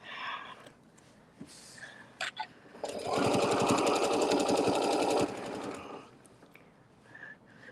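Sewing machine stitching in reverse on a quilted table topper, a fast, loud mechanical whir that runs steadily for about two seconds, framed by quieter handling noises before and after.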